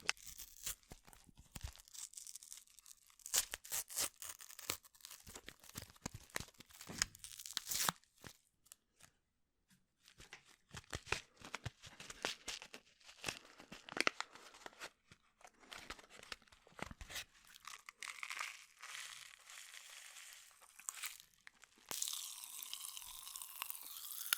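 Tropical punch Pop Rocks packet being torn open and crinkled up close, sharp irregular bursts of plastic crackling and rustling separated by quiet pauses.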